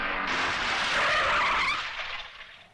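A car skids hard to a stop, a loud, sustained tire squeal close by that fades out over the last second.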